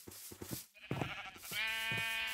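Sheep bleating in Minecraft, several short calls in quick succession followed by a longer, sustained bleat, close and clear with no talking.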